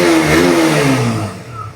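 A KTM Duke 125 BS4 motorcycle engine revs up loud and close, its note rising and then easing back off over a short burst with no talk.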